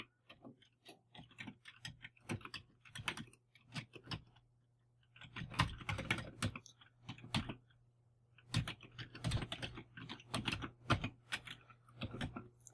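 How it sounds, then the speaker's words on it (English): Typing on a real Commodore 64 keyboard: clattery, close keystrokes in irregular bursts and pauses over a low steady hum, with no voices. "Just going to type that in here."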